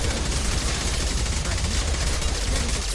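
Dense, sustained gunfire roars without a break in a sci-fi video game battle, loud and close, with a thick low rumble underneath.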